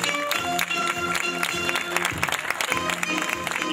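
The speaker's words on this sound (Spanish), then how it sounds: "a las que vamos a recibir con un fuerte aplauso" Applause at an outdoor civic ceremony marking May 25 in Argentina, greeting the entrance of ceremonial flags, with steady crowd clapping throughout over a hum of background music or band sound.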